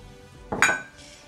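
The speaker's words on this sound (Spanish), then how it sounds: "Y vamos a comenzar a mezclar con la nata montada" A short clink and scrape as condensed milk is folded into whipped cream in a bowl for an easy Huesitos ice cream cake, one brief utensil-on-bowl contact amid quiet.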